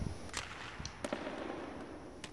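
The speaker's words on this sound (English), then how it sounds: "Slapshot it against the boards." A slapshot hits the boards in a hockey video game, heard as a few faint, sharp cracks and clacks over low, steady crowd-like noise.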